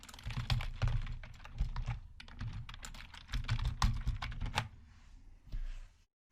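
Python code being typed into a Jupyter Notebook on a computer keyboard, bursts of quick clicking keystrokes with short pauses, close and fairly quiet, no talking.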